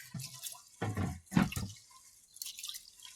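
Basmati rice being rinsed in water by hand, with a few short splashing, dripping bursts separated by quiet pauses, close by.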